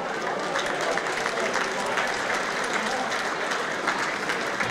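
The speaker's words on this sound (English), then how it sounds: "a big round of applause for both these men" A crowd at a Muay Thai fight night in Birmingham applauds continuously, dense even clapping with cheering voices underneath.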